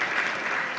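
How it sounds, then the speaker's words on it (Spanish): A short burst of audience applause after a lecture, steady clapping from a crowd at moderate volume with no voice over it. "Un aplauso para él, por favor."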